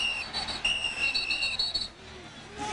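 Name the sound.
referee whistle during American football game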